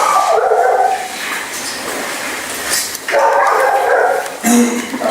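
Dog barking and yipping in bursts, moderately close, with some whimpering between the barks.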